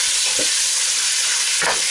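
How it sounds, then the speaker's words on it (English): Pork hitting a very hot pan fries with a steady, loud, broadband sizzle that holds throughout, with a couple of soft stirring scrapes from turning the meat, for a Spanish-style pork and chickpea dish. "let's get the meat in there. Good strike heat, so the meat starts to cook straight away"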